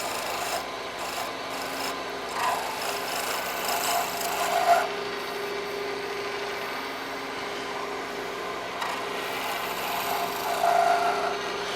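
A chisel held like a scraper is drawn along the edge of a handmade pen to refine it. It makes a continuous close, dry rasping scrape with brief pauses and slight surges over about twelve seconds.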